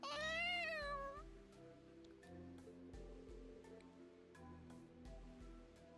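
In the video game Trails into Reverie, a cat gives a rising meow at the start, followed by quieter game ambience with soft rustling and scattered faint tones.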